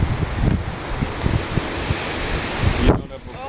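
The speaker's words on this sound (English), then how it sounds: "it's got windy" Gusty outdoor wind buffets a microphone, making a loud, rumbling roar with uneven puffs that eases off near the end, with faint voices underneath.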